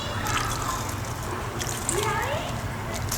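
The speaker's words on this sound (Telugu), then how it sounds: "ఇప్పుడు ఇలాగ జస్ట్ పైన స్ప్రింకిల్ చేసేద్దాం ఈ వాటర్ని" Water is sprinkled over kitchen waste in a compost container, a steady close hiss and patter lasting the whole few seconds while a person talks over it.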